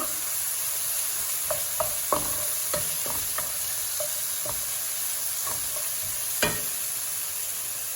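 Aromatics for an egg dish are stir-fried in a hot pan under a steady, bright sizzle broken by repeated sharp clinks and scrapes of a utensil against the pan, with no talking.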